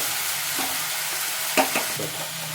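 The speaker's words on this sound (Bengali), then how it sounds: "আমার রসুনটা ভাজা হয়ে গেছে" Ginger-garlic paste frying in a pan for a fish chop gives off a steady low sizzle, with a few short scraping stirs.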